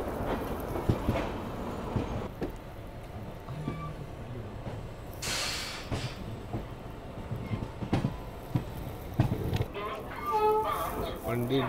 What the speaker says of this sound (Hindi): ये है राजेंद्र नगर अजमेर एक्सप्रेस, पंडित दीनदयाल उपाध्याय के आउटर पर